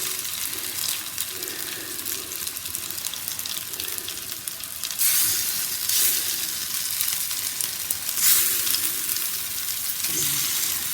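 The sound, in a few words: fish fingers frying in oil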